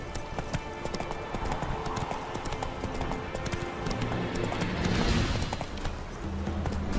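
Roach the horse gallops in The Witcher 3, with rapid hoofbeats thudding continuously and loudly up close, blended with a rumbling game soundtrack and ambient wind.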